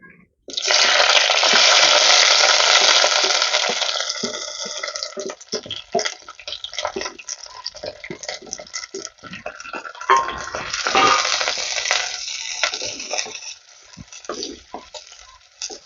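Chopped garlic, ginger, green chilli, curry leaves, onions and shallots land in hot oil in a pan, setting off a loud, bright sizzle that eases into a steady crackling fry, then flares again as the pieces are moved.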